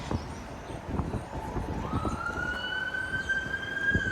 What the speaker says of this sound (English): There's a York Region ambulance,